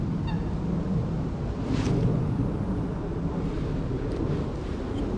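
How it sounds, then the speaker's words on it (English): Geese honk faintly in the distance by the River Lea, barely rising above steady wind buffeting the microphone, with a few scattered calls and no voices. "Now the geese are far away."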